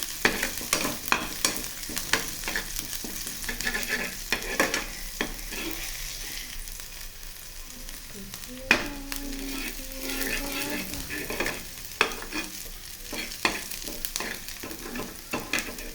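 Curry leaves and coriander stirred in a pan, with a spoon scraping and clinking in irregular strokes over a faint sizzle, close and moderately loud, without talk.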